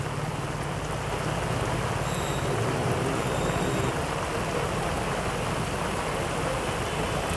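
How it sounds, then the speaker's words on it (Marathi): Heavy overnight monsoon rain pours onto a flooded road in Nalasopara, a dense, loud, unbroken hiss of drops hitting standing water, with no voices. "पाऊस पूर्ण मुसळधार रात्रभर पडत आहे"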